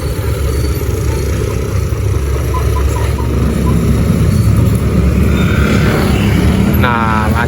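Steady, loud engine rumble and road noise from a traffic jam on a road, continuous throughout with a faint horn-like tone near the end.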